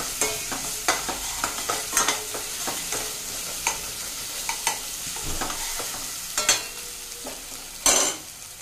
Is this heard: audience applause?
no